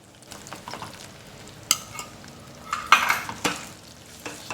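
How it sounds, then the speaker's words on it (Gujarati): Jaggery and roasted flour are stirred in a pan while making sukhdi, a soft Gujarati sweet; a spoon scrapes and knocks against the pan in soft irregular strokes with a faint sizzle, alone with no voices. "ગોળ નાખ્યા બાદ આ રીતે કન્ટિન્યુ હલાવતા રહેવાનું છે જેથી લોટ અને ગોળ બધું સારી રીતે મિક્સ થઈ જાય"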